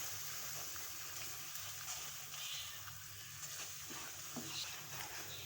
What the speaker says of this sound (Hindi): दो से 3 मिनट तक हमने इसकी लो टू मीडियम फ्लेम पर अच्छे से चम्मच चलाते हुए भुनाई कर लेनी है